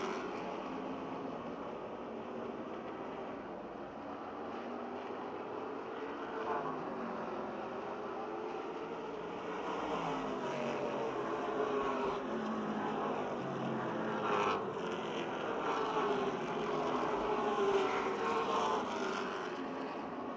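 Race cars lap the Motordrome Speedway oval, a distant, continuous engine drone rising and falling as the field passes, growing somewhat louder in the second half with no talk.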